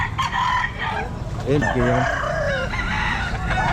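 A rooster crows loudly nearby at a pet market in Baliwag, over a noisy background with other chickens clucking and a brief spoken word.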